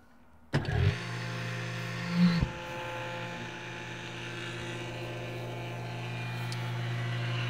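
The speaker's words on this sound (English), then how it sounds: "So what's going to happen, it's going to draw a vacuum." A countertop vacuum sealer with two sealing bars starts up abruptly and pumps a bag with a steady motor hum, a brief louder surge partway through, and no one speaking.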